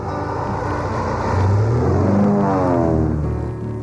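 A fish-stocking airplane flying over alpine lakes, its engine drone swelling as it passes nearby and then fading slightly, a continuous loud rumble with no voices.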